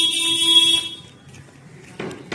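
A vehicle horn sounds in a steady held tone for about a second as family members arrive at a house, followed by quiet and a few short knocks or thumps.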